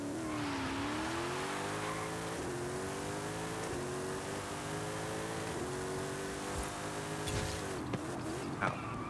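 A 2019 Ginetta G10 RM race car launching in a drag race in the video game Forza Horizon 5, its engine revving high and climbing through several gear shifts in a loud, steady roar.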